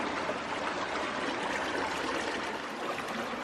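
Creek water flows steadily at an abandoned hot springs resort now serving as a wildlife refuge, a constant close rushing and trickling with no pauses or voices.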